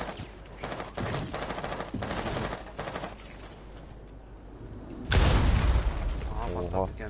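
Rainbow Six Siege match on PS4, with bursts of gunfire in the first half, then a loud, sudden claymore blast that lingers with rumbling debris, as players talk over the action.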